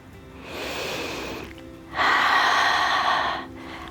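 Two deep breaths are drawn close to the microphone, the second louder and more forceful, each a breathy rush lasting over a second with a short pause between.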